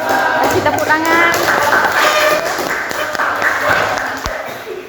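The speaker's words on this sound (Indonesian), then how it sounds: "Kasih tepuk tangan." An audience of students claps after a classroom biology group presentation, a dense sustained patter of many hands that gradually thins, with voices mixed in.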